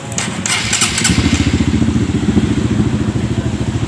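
A Honda CRF dirt bike engine with a fault that makes it sputter is started close by: an initial cranking thump catches into a loud, rapid, pulsing idle with a clattery beat.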